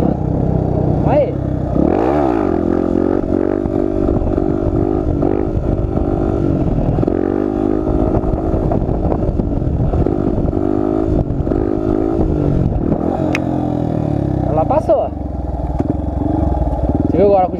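Dafra Lander 250 motorcycle revving hard through a wheelie, loud and close, its engine note rising and falling with throttle blips under steady wind and someone talking over it.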